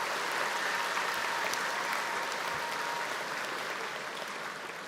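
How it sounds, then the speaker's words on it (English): A large high school graduation crowd applauds, producing an even, sustained wash of clapping that stays fairly soft and distant and eases off a little toward the end. "So a round of applause for our Chief today."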